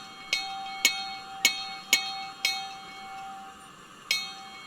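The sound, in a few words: locomotive bell in Train Simulator Classic video game, Neilson box tank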